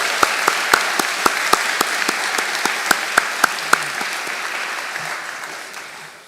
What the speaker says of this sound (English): Please, everyone, join me in giving a round of applause for all of the friends,